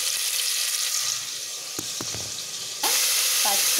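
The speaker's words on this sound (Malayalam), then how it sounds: "മണം മാറും വരെ നന്നായിട്ട് ഒന്ന് വഴറ്റിയെടുക്കാം" Ground green masala paste frying in a pan for chicken curry, with a loud continuous sizzle, a few quick spatula knocks, and a sudden surge of hissing near the end.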